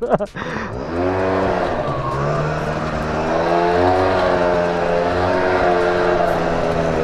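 Honda Dio scooter with a worn tire, its small engine revving steadily at close range, a sustained buzzing drone that rises and holds at high RPM after a brief rough start.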